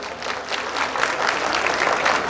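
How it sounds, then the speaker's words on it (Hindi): A crowd at the Gorakhpur Mahotsav 2021 stage show claps heartily for the chief minister, a continuous, moderately loud roar of many hands, fairly even and slightly swelling toward the end. "एक बार दिल से जोरदार तालियां हो जाए प्लीज"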